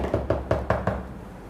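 Five quick knocks rap on a door in a brisk, evenly spaced run in a classroom, the blows fairly close and moderately loud, then quiet.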